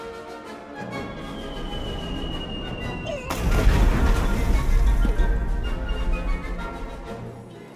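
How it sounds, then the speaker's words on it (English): A cannon fires in an animated kids' comedy, one loud broadband blast near the middle that lingers as a rumbling, crackling tail over a busy music and effects bed. "Francis, aim the cannon at him! Get him!"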